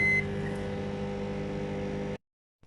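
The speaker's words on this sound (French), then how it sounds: "je vais terminer la cuisson 10 minutes au micro-ondes" A microwave oven hums steadily and close while cooking potatoes, then cuts off abruptly, leaving silence and a faint click.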